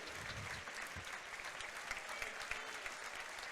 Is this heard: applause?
yes